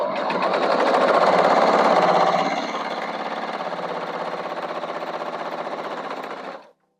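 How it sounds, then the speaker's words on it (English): A sewing machine stitches quilt stem fabric in one sustained run, its rapid needle chatter close and steady before stopping abruptly near the end. "I'm going to take my piece of fabric, my stem fabric, if you will, line that up like so, and let's give it a sew."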